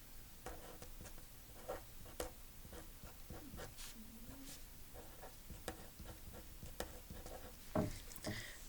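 Pencil writing a number on paper, with quiet, scratchy strokes and light taps coming in short bursts, close and faint.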